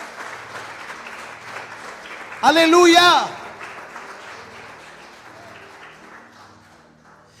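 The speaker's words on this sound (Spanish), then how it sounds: "Le da un aplauso fuerte al Rey por su cuidado y por su protección." Church congregation clapping during a sermon, a continuous patter of many hands throughout, briefly topped by a loud voice calling out, then the applause thins and fades.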